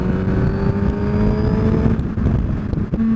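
A 2017 Suzuki GSX-R1000 sportbike accelerates hard in second gear, its engine note loud and close with a steady rising whine and wind buffeting throughout, then a brief dip near the end.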